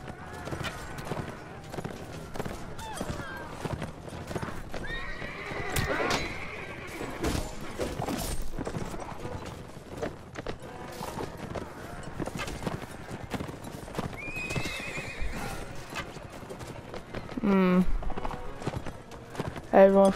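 Horses gallop in Mount & Blade: Warband with rapid clip-clopping hooves, a whinny and clashing impacts mixed in, under game sounds and occasional voices.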